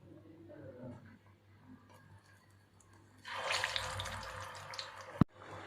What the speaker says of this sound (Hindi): अब दूसरी ओर के भी फ्राई करने के लिए डाल देंगे